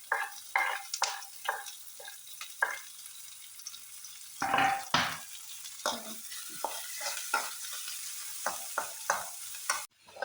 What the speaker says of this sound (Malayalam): ഇഞ്ചി ഒന്ന് മൂപ്പിച്ചെടുത്തിട്ട് ബാക്കി ചെയ്യാം